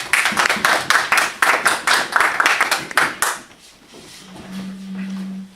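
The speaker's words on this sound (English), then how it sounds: "Everybody give Bryant a round of applause" An audience at a meetup claps in a loose, rhythmic round for a speaker, with distinct clustered claps for about three seconds before it stops and a low steady hum remains.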